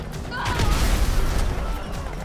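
Explosions and gunfire in a Thai gameplay session with a modded Honda Nova RS two-stroke motorcycle, a loud rumbling blast with crackling debris filling the whole span, with game noise and chatter around it.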